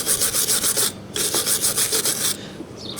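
A hand brush scrubs grimy brake parts on a Ford Fiesta during a brake job, giving steady rhythmic rasping strokes, close and loud, with a brief pause near the middle and no talk.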